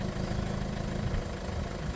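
A Peugeot 1.4 HDI diesel engine idling as it warms up after a particulate filter cleaning with vinegar, a steady low, rough chugging hum heard close and alone, without voices.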